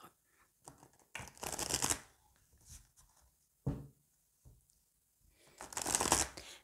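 Oracle cards being shuffled in several quick riffling bursts with pauses between, close and fairly loud, with no talking.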